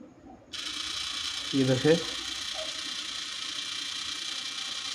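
A 12V 30rpm DC gear motor runs with a steady, even whine from about half a second in, continuing unbroken to the end, while a voice briefly speaks over it.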